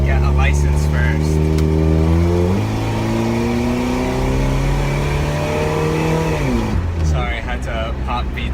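A Jeep engine revs hard while accelerating to merge, harmonics climbing in two long pulls with a gear change between them, loud and close, with a voice talking over it.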